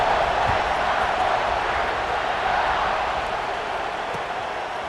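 A football stadium crowd in a college game moments before a kickoff, a dense, steady roar of many voices buzzing at a distance without distinct cheers or applause.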